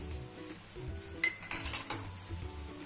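A spoon stirs mewa pak, a dry fruit sweet with makhana and edible gum, in a metal pan, giving several light scraping clinks and taps against the metal over a faint background hiss, with no talking.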